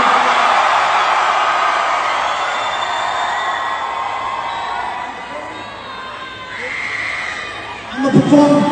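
A concert crowd at a rap show in Hidalgo, Texas cheers and shouts loudly, the roar fading gradually before a fresh burst of whoops and yells near the end.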